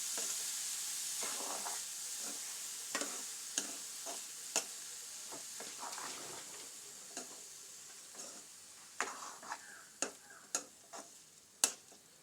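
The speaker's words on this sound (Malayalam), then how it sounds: "ഒന്ന് നന്നായിട്ട് ഇളക്കിയെടുക്കാം." Tomato rice is stirred in a pan, a faint low sizzle under a scattered series of sharp spoon taps and scrapes that grow more frequent toward the end, close and with no voices.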